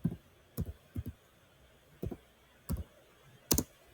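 Several separate key presses on a computer keyboard while a Linux command is entered, sparse clicks spaced irregularly over a few seconds, close and fairly quiet with no talking.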